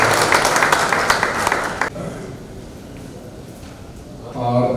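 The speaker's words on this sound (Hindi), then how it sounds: "सर का एक जोरदार तालियों से हम सबका परिवार से स्वागत करते हैं" Loud applause fills a large conference hall to welcome a guest at a national traders' welfare event, the crowd's clapping steady and dense before dropping off abruptly, leaving quieter room noise and a voice returning near the end.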